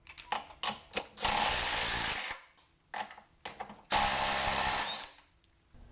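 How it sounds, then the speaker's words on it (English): Ratchet wrench loosening two 18mm nuts on the bottom of a C5 Corvette differential mount, close up: clusters of quick clicking strokes alternating with two longer, louder bursts of continuous ratcheting, no talking. "First thing we're going to do is remove these 2 18mm nuts on the bottom."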